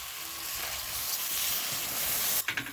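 Water poured into a hot pan of vegetables, dalia and dal hisses in a loud, steady sizzle that holds throughout, then breaks into a few sputtering bursts near the end; no talking.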